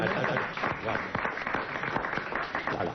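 Studio audience applause on a French radio-television comedy panel show, a dense steady patter of many hands sustained throughout at moderate level, with faint voices mixed underneath.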